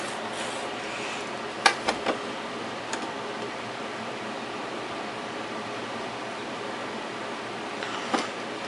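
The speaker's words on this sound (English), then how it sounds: "Sorry about the fan going in the background" Steady broadband whooshing hum of an electric fan running throughout, with a few faint clicks and knocks over it.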